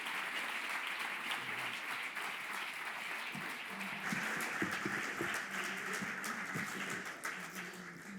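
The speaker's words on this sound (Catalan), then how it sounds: "Fort l'aplaudiment, sisplau!" Sustained audience applause at the Fava de Cacau 2023 awards ceremony in Sant Vicenç dels Horts, a dense, steady wash of many hands clapping throughout, fairly distant and even in level.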